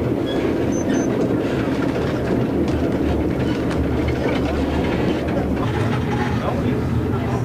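A train on an Alaska cruise excursion rolling along, a steady loud rumble with rhythmic rattling and clatter throughout, heard from inside the carriage with voices faintly mixed in.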